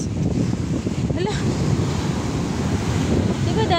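Big ocean waves crashing on a beach in Quezon Province, a loud, steady roar of surf and wind noise filling the whole clip, with faint voices underneath.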